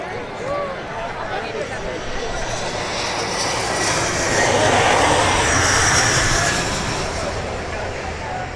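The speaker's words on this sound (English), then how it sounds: "we see the occasional plane fly overhead" Close to a runway, a fixed-wing airplane passes overhead with a broad engine roar. The roar swells toward the middle and then slowly eases, filling the whole stretch with no break.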